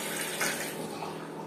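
Water gushes steadily from a repaired mixer faucet running both cold and hot, a dense, even hiss of flow, close and continuous throughout with no talk.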